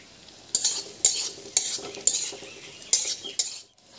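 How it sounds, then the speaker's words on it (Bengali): Carrots and beans frying in hot ghee and refined oil, stirred with a metal spatula that scrapes and knocks the pan in a regular beat about twice a second over a bright sizzle, no voices. "রিফাইন্ড অয়েল এবং ঘি ভালো করে গরম করে নিয়ে এবার এতে দিয়ে দিচ্ছি কেটে রাখা গাজর, দিয়ে দিচ্ছি বিনস,"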